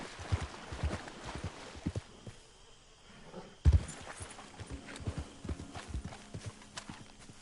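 Horse hooves in Red Dead Redemption 2 Online, a steady clip-clop of hoofbeats at walking pace, close and crisp, with a short pause partway through before the rhythm picks back up.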